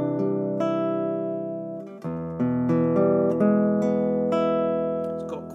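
An acoustic-electric guitar with flat EQ, a Godin Multiac Concert Grand SA: plucked notes ring out clearly, bright strummed chords and single notes sustaining and overlapping at a steady, moderate pace, with a thin top end.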